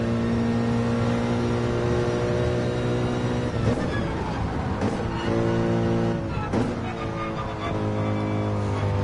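Race car engine in the video game Gran Turismo 7 holds a loud, steady sustained drone, with brief gear-shift dips and revs rising again near the finish of a lap.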